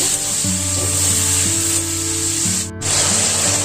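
Green chili, cumin and garlic paste frying in a pan, giving a steady, close sizzle with a spray-like hiss and faint stirring scrapes over a constant background hum, no one speaking.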